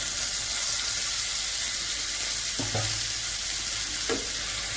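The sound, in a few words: chopped tomato frying and being stirred in oil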